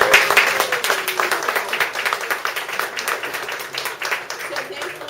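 Audience applause at the 2018 Spring Benefit for the Cambridge Historical Society: dense clapping from a crowd indoors that stays steady, then fades slightly toward the end.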